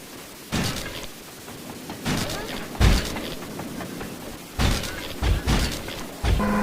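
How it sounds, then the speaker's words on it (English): Cannon fire and dropped bombs from a remote-controlled chopper in the Sly 2 video game, a run of sharp loud blasts and booms in several bursts over steady game background. "Good thing I outfitted the RC chopper with a new cannon."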